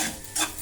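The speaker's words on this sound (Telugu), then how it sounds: "సాల్ట్ వేసుకొని ఇలా ఇంకో 5 minutes ఫ్రై చేసుకోవాలి." Salted carrots are stirred and fried in a pan: a brief, close scrape of the spoon over a soft sizzle.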